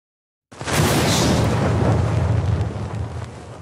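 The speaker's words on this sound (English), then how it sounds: "I thought I was done with the explosions." Explosion sound effect that starts abruptly after a moment of silence, a loud rumbling boom that fills the sound and slowly fades while still rolling at the end.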